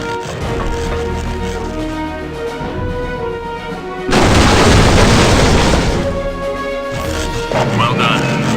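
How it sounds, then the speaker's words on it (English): A missile self-destructing in the Marvel Ultimate Alliance video game, heard as a sudden loud, broad explosive roar that bursts in midway over a music score and then fades back down. "Missile harmlessly self-destructed"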